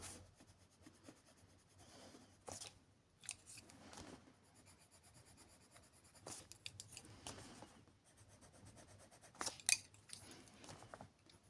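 Polychromos coloured pencils shade and blend on paper, giving faint, close scratchy strokes in irregular bursts with quiet pauses between them.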